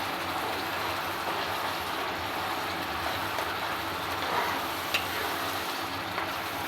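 Onions sautéing in a pan on a home stove make a steady, even sizzle with faint stirring clicks, continuous and moderately quiet, with no talking.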